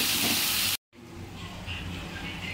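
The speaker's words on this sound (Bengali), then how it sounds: "এবারে কুচনো পেঁয়াজগুলো দিয়ে দিচ্ছি। দিয়ে একটু ভালো করে ভেজে নিচ্ছি।" Chopped onions frying in oil with cumin seeds, a broad steady hiss that cuts out briefly, then a softer sizzle afterward.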